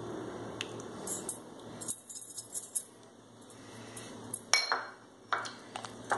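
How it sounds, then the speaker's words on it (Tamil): An egg goes into banana cake batter in a home kitchen. Close, soft clinks and taps of a utensil against a bowl come in scattered bursts over a quiet background. "இப்போ நம்ம முட்டை சேர்க்குறோம்."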